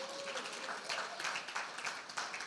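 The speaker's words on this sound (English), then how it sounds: "Can we give a round of applause?" Convention audience applauding during a safeguarding session, a brief burst of dense clapping with uneven swells, fairly close and alone without talk.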